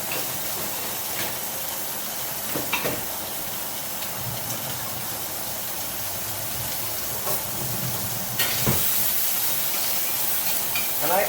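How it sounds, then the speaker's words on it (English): Bacon browns in olive oil in a pan, giving a steady, fairly loud sizzle and hiss throughout, with occasional stirring scrapes and a brief flare of louder spitting near the end. "I'm just going to add a little bit of olive oil to my pan. And I'm going to brown my bacon"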